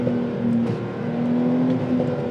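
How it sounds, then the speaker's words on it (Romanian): Porsche 911 engine braking on a wet road, a steady droning engine tone holding and wavering slightly as the car slows, heard close without talk. "Și frâna de motor e impresionantă."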